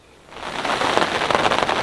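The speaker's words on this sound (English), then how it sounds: "it is absolutely pelting it down with rain" Heavy rain pelts down steadily on an early winter morning at a fishing lake, a dense, loud hiss of drops that swells after a quieter opening and then holds constant, with no voices.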